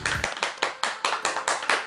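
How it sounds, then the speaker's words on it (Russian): A small group at a wedding anniversary celebration claps in a steady, even rhythm, close by, with no cheering or voices over it. "Встречаем под аплодисменты."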